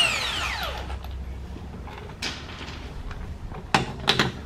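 A power tool whirs down as it removes lug nuts from a Ford F150 front wheel, followed by metallic clanks and clicks of nuts and tool handling in a garage.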